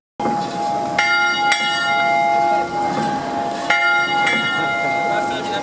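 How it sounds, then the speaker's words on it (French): A church bell at a temple inauguration ceremony rings out in several strong, resonant strokes, each leaving a long shimmering hum that overlaps the next, fairly close and loud. "La cloche, symbole d'appel à la paix, a retenti."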